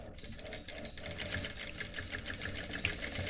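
Sewing machine stitching layered fabric in a tailoring lesson, a steady fast mechanical whir and rhythmic needle clatter running throughout at moderate level.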